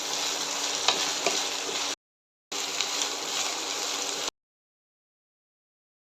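Garlic and onion sizzling steadily in a pan for a Kerala-style garlic chutney, a close, continuous frying hiss with light stirring, broken by two short silent gaps.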